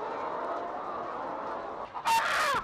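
Hens carried in bunches of six to eight on a poultry operation cluck and squawk, faint and indistinct at first over background noise, then a sudden loud burst of agitated squawking near the end.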